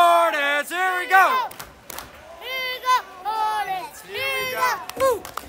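A crowd at a hockey game between the Chicago Hornets and Ohio Warriors shouts rhythmic chants in bursts, voices rising and falling in unison with brief pauses between calls.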